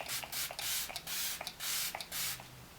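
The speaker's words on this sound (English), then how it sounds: "This is going to be the Tarte, the Double Duty Stay Spray." Tarte Double Duty Stay Spray setting spray misted in five quick, close hissing bursts with brief pauses between, each a soft airy spritz with no talking.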